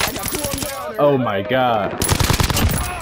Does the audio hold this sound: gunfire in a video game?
yes